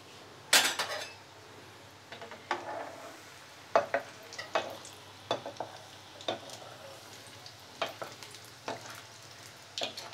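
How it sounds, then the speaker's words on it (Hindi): Besan French fries frying in oil over a medium flame, a soft continuous sizzle broken by irregular clinks and scrapes of a metal utensil against the pan. "दोनों तरफ से हमारा गोल्डन ब्राउन हो जाने तक हमें इसे अच्छे से फ्राई कर लेना है।"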